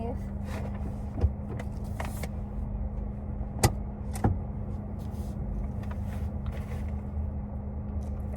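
A car idles and creeps forward during a beginner's driving lesson, giving a steady low engine hum throughout with a few sharp clicks and knocks inside the cabin, while people talk quietly.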